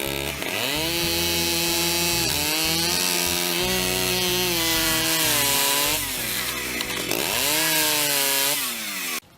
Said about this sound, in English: get my small chainsaw and I'll buck off some of the things in the way